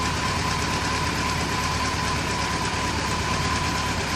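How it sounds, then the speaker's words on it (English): A Kawasaki Concours C10 motorcycle with four freshly synced carburetors idles steadily, a constant close mechanical drone with an even rhythmic pulse throughout. "So let me go ahead and start the bike up. I've already synced all 4 carbs, and as you can see, my idle is very stable."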